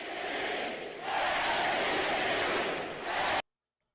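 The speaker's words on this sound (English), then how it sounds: "the Heat fans are cheering" Miami Heat fans roar and cheer at an NBA playoff basketball game against the Boston Celtics, a loud sustained crowd swell that dips briefly and surges again before cutting off.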